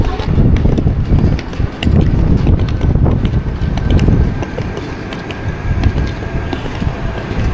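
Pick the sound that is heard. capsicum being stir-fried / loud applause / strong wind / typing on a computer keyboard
strong wind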